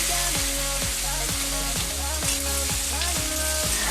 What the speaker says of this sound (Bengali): শুকনো লঙ্কাটা ভাজা ভাজা হয়ে গেছে, এবার আমি আলুটা দিয়ে দিচ্ছি